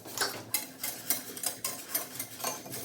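Cookie ingredients being whisked in a bowl for no-sugar, low-carb paleo cookies, a steady rhythm of quick scraping strokes, roughly two per second, close and fairly quiet with no talk.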